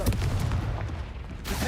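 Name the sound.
Confringo spell cast in Hogwarts Legacy video game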